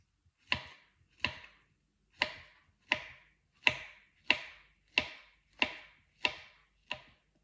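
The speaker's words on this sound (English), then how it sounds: "And then I'm going to chop then my banana into little pieces, ready to decorate the top of my pancakes." Knife chopping a banana into little pieces on a board, ten crisp evenly spaced chops close up, alone with no talk.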